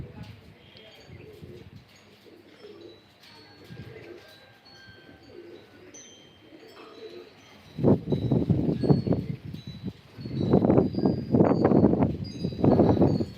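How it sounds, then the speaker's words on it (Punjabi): Racing pigeons coo softly at first, then louder bursts of cooing and flapping rise in the second half, fairly close by. "ਉੱਡ ਰਹੇ ਨੇ ਕਬੂਤਰ"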